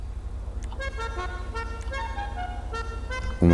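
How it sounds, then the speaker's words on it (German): A car horn from the vehicle shop in GTA 5 on PC, a steady tonal honk held for a few seconds with a louder burst at the very end, heard alone without talk. "Hupe."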